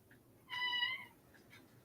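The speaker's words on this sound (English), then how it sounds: "Hello, cat. Would you like to go out so you'll shut up?" A single clear cat meow rises and falls for about half a second in a quiet indoor room, with faint softer chirps around it.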